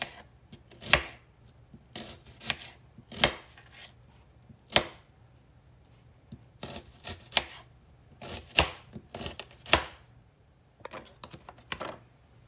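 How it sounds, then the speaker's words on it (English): A knife chops a purple onion into thin slices on a board, giving sharp, distinct thunks in irregular bursts with short pauses between. "now we're going to chop us up some of the onion"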